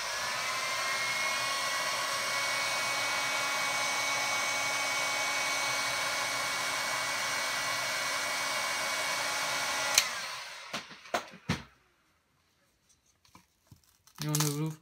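A hot-air blower heats the glass of a Galaxy Tab 4 tablet during a screen replacement, a loud steady roaring hiss lasting about ten seconds before cutting off, followed by scattered clicks and handling noises.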